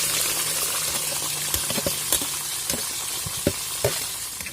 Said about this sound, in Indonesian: teman-teman langsung tuangkan cumi-cumi yang tadi